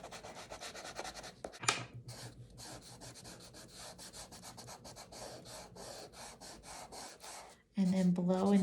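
Chalk scrubbed back and forth on paper to color in a drawn rabbit's ears, close and steady, rhythmic rasping strokes continuing throughout, with a voice briefly coming in near the end.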